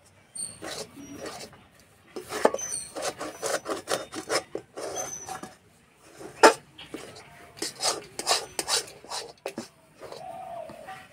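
A thick, sticky mixture of ripe jackfruit cooked with ghee for naru is stirred and scraped in a wok, producing close, rhythmic rasping scrapes in quick bursts separated by brief pauses.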